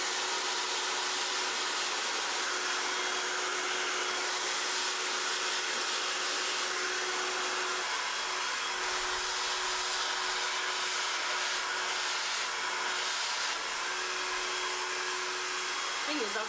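A blow dryer runs continuously at close range, a loud, even roar with a steady hum, used to straighten natural afro hair, with no speech over it.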